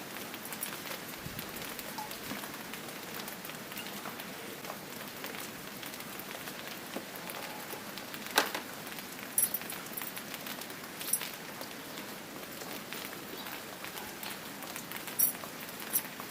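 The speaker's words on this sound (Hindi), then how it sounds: "अभी बारिश हो रही है हल्की हल्की" Light rain falls in a village, a soft continuous patter of drops on surfaces with occasional louder splashes and ticks standing out against the steady hiss.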